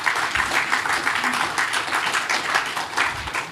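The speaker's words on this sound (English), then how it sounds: "give her a round of applause" Audience applause at a presentation event, a dense continuous wash of many hands clapping at steady loudness throughout, with no voices standing out.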